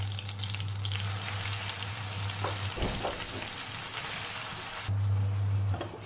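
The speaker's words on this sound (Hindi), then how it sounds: "चिकन को हम हल्का कलर चेंज होने तक फ्राई करेंगे" Chicken pieces fry in melted butter in a pan, a steady broadband sizzle with a low hum underneath and a brief clatter near the middle, close and moderately loud.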